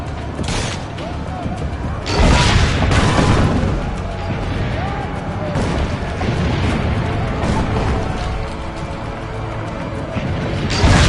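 Cannon fire in Assassin's Creed Brotherhood during a town siege, heavy booms at intervals amid a dense battle din of crashes and mechanisms, with voices calling out over the loud, busy mix.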